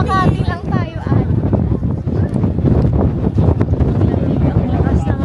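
Strong wind at Hong Kong's Victoria Peak buffets the microphone in heavy, uneven gusts, roaring under people talking nearby.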